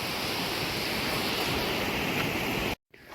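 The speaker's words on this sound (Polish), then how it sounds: "szumi nam pięknie biała woda i tak będzie nam towarzyszyć do końca" Biała Woda, a rushing mountain stream in the Tatras, gives a steady, loud broadband roar of water throughout, cutting off abruptly near the end before resuming faintly.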